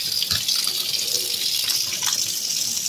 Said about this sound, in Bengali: মাছ আমি পরিষ্কার করে ধুয়ে নিচ্ছি।